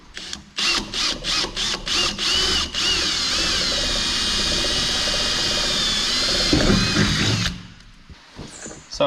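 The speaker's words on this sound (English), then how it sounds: "But we'll drill that now." An electric drill fires in several quick bursts, then runs in one long steady whine while drilling a hole, before stopping.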